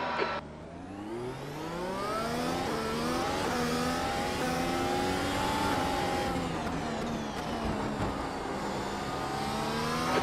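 Simulated race cars launch from a standing start at MotorLand Aragón in iRacing, a dense pack of engines revving up through the gears in steady rising sweeps, loud and continuous with no talk.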